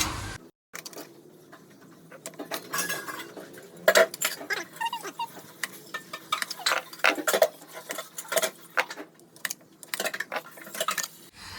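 Irregular sharp knocks and chopping taps of a knife cutting jackfruit into pieces on a board, close by, with scraping between strokes and quiet pauses.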